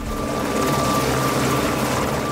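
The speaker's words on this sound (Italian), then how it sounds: "Questa è la missione per cui l'aeronautica militare impiega l'elicottero HH-101 Caesar." An HH-101 Caesar military helicopter of the Italian air force sounds close and loud, its rotor producing a continuous rapid thudding over a heavy turbine roar.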